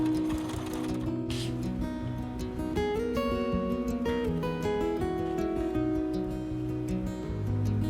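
A sewing machine stitches corset pieces together in a steady, continuous mechanical whir with rapid needle clatter, close and alone, broken by a brief pause near the start.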